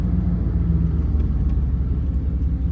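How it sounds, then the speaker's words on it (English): Inside a 1994 Chevrolet Suburban while driving, a steady low road rumble fills the cabin with a faint tonal whine riding underneath, continuous and without speech. "I still got the whine, and I'm not sure if that whine is the front bearings on my wheels, the rear diff, or something in the trans"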